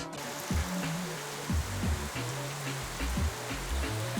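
Rain falls steadily on a rainy day, a constant dense hiss with no break, along with low hums and a few muffled thumps underneath.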